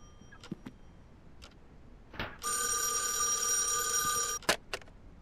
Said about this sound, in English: The hell's a phone at?